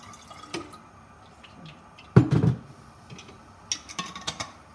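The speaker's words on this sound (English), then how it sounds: "what I like to do is just add a little bit of water" Water poured into empty tins of sauce for a Bolognese gives a short splashing burst midway, with scattered drips and light metallic taps before and after.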